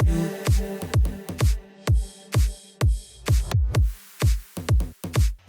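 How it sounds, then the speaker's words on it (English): Electronic music drop with a punchy kick drum hitting in a steady pattern, each hit dropping in pitch, alongside snappy percussion and sweeping effects layered over sustained chords, loud and driving with no voices. "Obviously we have the drums and effects in the drop and they sound like this."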